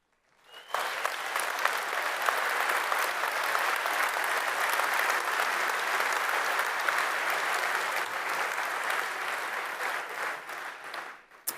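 Sustained applause from an audience at a French corporate presentation, steady and even for about ten seconds before cutting off, with no voices over it.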